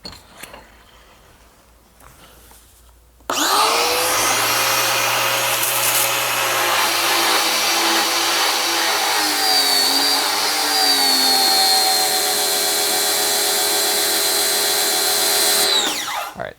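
After a few seconds of quiet, a Sun Joe pressure washer starts abruptly and runs as a loud, steady high-pitched whine with a drone beneath, then cuts off near the end.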